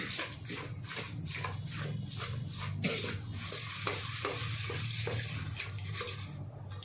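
Fish curry with oil being stirred in a pan, a spoon scraping in repeated rhythmic strokes over a steady background sizzle, close and fairly loud with no talking.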